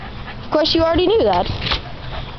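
A dog whimpers and yips in a high, sliding whine while playing, close and fairly loud for about a second, with a person talking over and around it.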